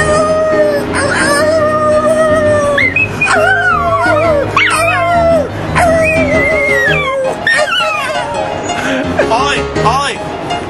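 A dog howling in long wavering, rising and falling cries, loud and close, with a person howling along to coax it.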